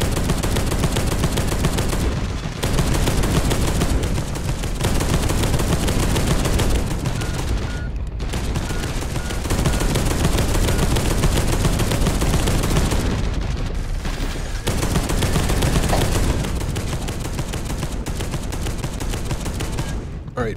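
Sustained, loud minigun fire in Space Hulk: Deathwing, pouring out in long dense bursts broken by a few brief pauses.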